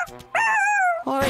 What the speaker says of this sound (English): Oreo, what are you barking at me for?